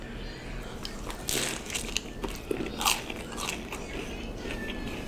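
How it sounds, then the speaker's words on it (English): Crisp lettuce leaves crunch loudly and close up as a lettuce wrap is bitten, followed by several sharp crunches and chewing. "You wrap it in the lettuce like that. And you dip it, and then you take a bite."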